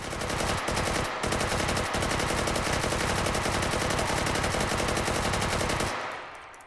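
Sustained rapid automatic gunfire in the Hot Dogs, Horseshoes & Hand Grenades VR game, shooting through a wall, loud and continuous for about six seconds with brief gaps before cutting off into a short fade.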